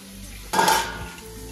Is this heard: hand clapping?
no